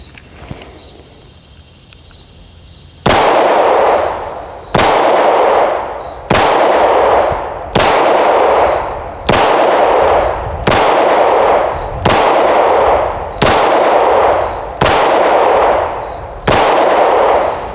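A Hi Point YC9 pistol fires about ten sharp, loud shots at a slow, even pace, each blast ringing out briefly before the next, with no talking in between.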